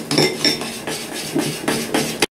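A utensil stirs natto spaghetti sauce made with salt, pepper, olive oil and soy sauce in a bowl, tapping and scraping in quick, rhythmic strokes with bright metallic clinks.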